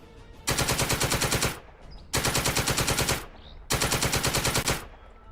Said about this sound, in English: Really accurate machine gun fire, apparently.